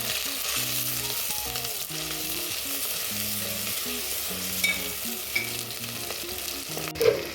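Ginger, garlic and cinnamon sizzle in hot oil in a pan, a steady bright crackle running under soft background music, with a few sharper pops and a utensil clink near the end.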